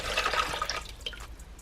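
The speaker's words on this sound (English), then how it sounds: "I hope you guys enjoy me refilling my chameleon's dish" Water splashes and trickles briskly into a chameleon's drinking dish, a dense pouring rush for most of a second before thinning to a few scattered drips and splashes.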